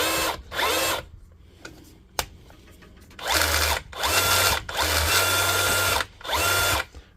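A DeWalt DCH273 Type 2 SDS drill, faulty and not hammering, runs in five loud bursts of rough whine, with quiet gaps between them.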